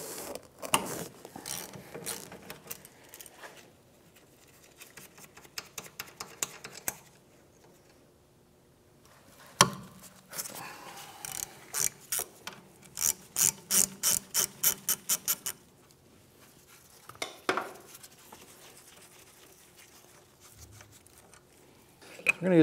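Ratchet wrench on 14 millimeter brake caliper bolts of a Hyundai Elantra: bursts of rapid close clicking in several runs separated by quiet pauses, with mechanical clanks and a few knocks.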